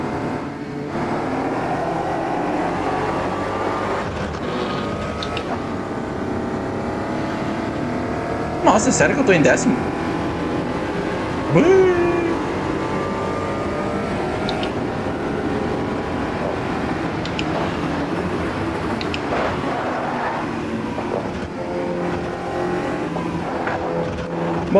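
VW Polo TSI turbo car from the racing game Automobilista 2 drones steadily with its engine note rising and falling through gear changes, a continuous mid-level hum under someone talking.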